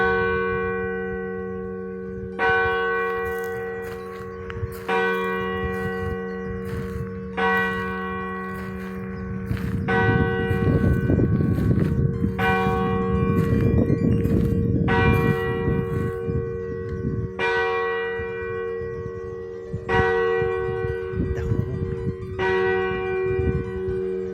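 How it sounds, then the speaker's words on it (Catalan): Church bells strike twelve o'clock with clear, resonant tolls in a slow, steady series, each ringing out and decaying into sustained overtones, with a busier stretch of overlapping clangor in the middle. "Estic esperant que sonin les campanes a les 12."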